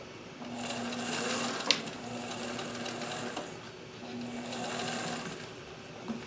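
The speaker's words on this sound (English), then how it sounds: "so I will just sew over that without rolling it." Sewing machine stitching over a seam while making jeans, a close steady mechanical whirr with rapid needle chatter that swells in two long bursts separated by a slower stretch, with a few small clicks between.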